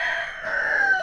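A rooster crows once, a drawn-out, strained call heard clearly and fairly close, with no talking around it.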